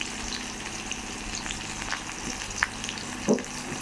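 Bay leaf, cinnamon, cloves and cardamom fry in hot oil for a Bengali egg and potato curry, producing a continuous close sizzle with a few sharper spatters and pops near the end.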